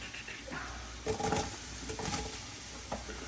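Garlic sizzles in bacon fat in a pan as potatoes and leeks go in for a potato cheddar bacon leek soup, a steady frying hiss broken by a few louder stirring scrapes and clatters.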